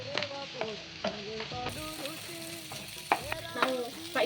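Garlic and capsicum fry in hot oil for bisibele bath, a continuous sizzle broken by repeated scraping and clanking of a spoon stirring the pan, close up with no talking.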